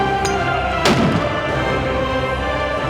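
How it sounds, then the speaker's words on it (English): A single heavy shot from a 50 BMG rifle with a carbon fiber barrel and muzzle brake, fired at 600 yards outdoors, lands as one sharp blast partway through over constant loud background rumble. "That was the 50 BMG."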